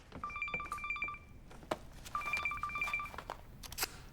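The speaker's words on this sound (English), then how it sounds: "My phone's ringing." A phone rings with electronic tones in two short bursts, quiet and nearby, separated by a brief pause with a soft click.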